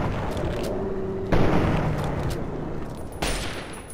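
Gunfire in Fallout 3: a couple of sharp, booming shots break through a steady rumbling background, one near the middle and another toward the end, loud and close with no voices over them.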